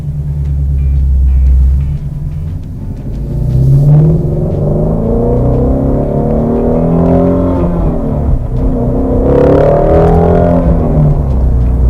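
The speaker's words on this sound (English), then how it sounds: "maybe we'll hear that exhaust one more time" A 2017 Ford GT350 Mustang sports car engine rumbles steadily and climbs in pitch as it accelerates, a deep exhaust note rising and falling without any talking.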